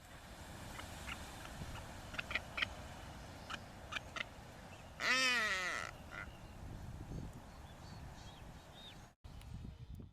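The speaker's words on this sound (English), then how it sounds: "the vocalization of the chick sounds like the female during courtship" A blue-footed booby chick gives a loud, wavering, rising call amid scattered short chirps and faint background noise, in the Galapagos Islands.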